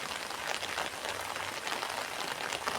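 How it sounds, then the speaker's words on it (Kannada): Rain falls on a vehicle's windshield glass in a steady, close patter of drops that holds an even loudness throughout, with no talking. "ಮಳೆ ತುಂಬಾ ಮಳೆ ಬರ್ತಿತ್ತಂತೆ ಮಳೆ ಹನಿ ಆ ಗ್ಲಾಸಲ್ಲಿ ಗಾಡಿಯ ಗ್ಲಾಸಲ್ಲಿ ಇದೆ"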